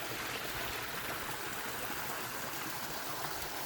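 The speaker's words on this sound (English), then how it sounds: "The sound of water in the desert." Water flows steadily in a backyard koi pond in a desert garden, a soft continuous trickling wash with no breaks, fairly faint and evenly spread.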